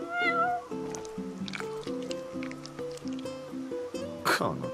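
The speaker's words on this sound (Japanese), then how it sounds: "この贅沢猫" A cat meows in Final Fantasy XV, a drawn-out mew at the start and another sharp cry near the end, over a bright, looping melodic game soundtrack.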